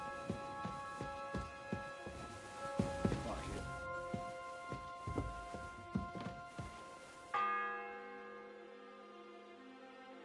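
Church bell in the medieval game Kingdom Come: Deliverance II, struck in slow repeated strokes over a few seconds and then ringing out in a long fading hum, fairly faint, with a voice nearby.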